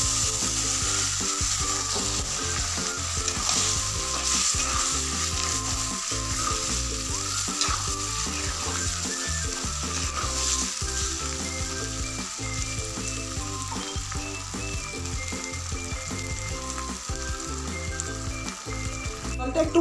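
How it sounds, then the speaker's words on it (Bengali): Boiled dal going into potatoes frying with spices in a pan gives a loud, steady, close sizzle that continues throughout with light stirring scrapes and no talk. "এবার সেদ্ধ করে রাখা ডালটা এর মধ্যে ঢেলে দেব।"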